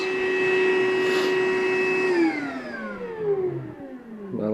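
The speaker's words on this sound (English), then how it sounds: "It's nice when you have a vacuum close by." A vacuum cleaner held close while drilling drywall for an IP camera installation hums steadily and loudly, then its pitch sags and slows as it winds down near the end.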